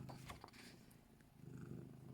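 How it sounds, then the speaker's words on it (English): A pet cat purring very close, a soft steady low rumble with faint rustling on top, quiet and continuous with no talking. "Can you hear him purring?"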